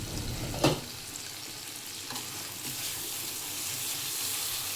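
Spice paste fries over a lowered gas flame in a pan, a quiet continuous sizzle after one brief clatter near the start, no voices.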